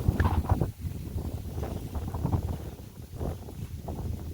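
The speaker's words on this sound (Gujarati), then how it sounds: "पवन पण बहु छे आज, हदथी वधारे पवन छे" Strong wind buffets the microphone on a farm, giving a continuous low rumbling roar with gusty surges and no clear speech.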